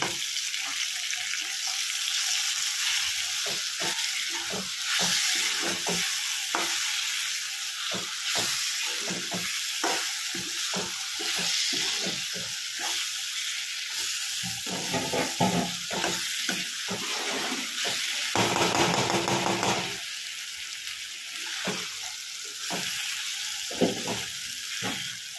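Continuous crackling sizzle of bitter gourd and eggplant frying in oil, punctuated by repeated scraping and stirring strokes, close and fairly loud throughout.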